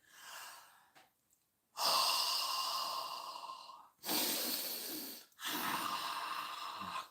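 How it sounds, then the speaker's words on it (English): A person breathing out onto a tomato plant while repotting: several long, close, audible exhalations and breaths, each a few seconds of airy hiss separated by short pauses, with no talk. "I'm breathing carbon dioxide onto my tomato plant."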